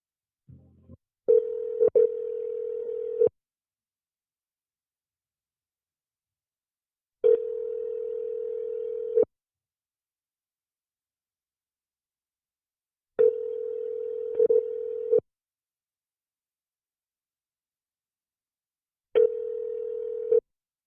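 Telephone ringback tone while a call is being transferred to a police department's head of detectives: four steady, mid-pitched buzzing bursts of about two seconds each, separated by pauses of several seconds, clear and alone.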